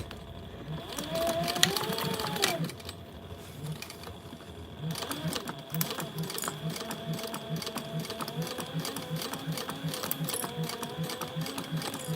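A sewing machine stitches a seam along a fabric strap, running steadily with a fast, even mechanical chatter, pausing briefly, then resuming for a longer continuous run.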